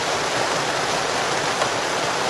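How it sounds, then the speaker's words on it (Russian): Water poured slowly through a handkerchief into a second bottle, outdoors in heavy rain: a steady, close, soft splashing rush that holds an even level throughout, with no talking. "сливаю воду во вторую бутылку"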